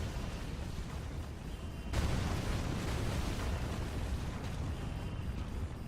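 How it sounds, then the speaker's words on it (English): An exploding train in a MapleStory 2 dungeon: a loud, continuous rumbling roar of blasts that kicks in sharply partway through and keeps churning steadily, with no talking. "look at this dumb explosion"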